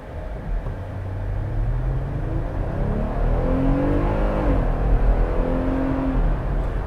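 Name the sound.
2020 Jeep Gladiator EcoDiesel truck accelerating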